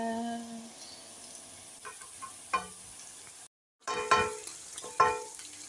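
Chopped onion fries in a pan with a soft, steady sizzle. A few sharp scrapes and clinks of stirring come through, and there is a brief silent gap near the middle.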